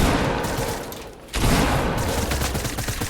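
Dense automatic gunfire in the video game Fortnite, a sustained loud fusillade that dips briefly and then surges back into rapid continuous shooting.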